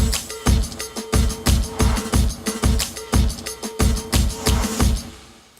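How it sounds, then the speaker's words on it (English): Breakbeat drums with a filtery dance style in a pop music track, a steady loud pattern of punchy kicks and snares that fills the mix until it fades out at the end. "our drums come in, which are also doing kind of a breakbeat, filtery dance thing"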